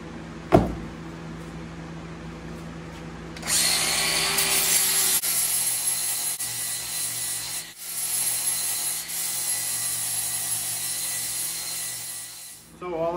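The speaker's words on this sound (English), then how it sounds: "So all I did was grind the teeth down until all of the little indentions for the teeth disappeared." Grinding disc grinding down metal teeth on an axle disconnect part, a harsh bright abrasive hiss starting after a short thump and running steadily, close and fairly loud, with a few brief dips.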